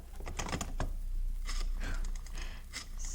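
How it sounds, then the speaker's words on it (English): Old telephone being dialed in a radio drama, a run of short clicking and whirring bursts in a quick uneven rhythm, close and moderately loud with no talking. "went to the phone and dialed."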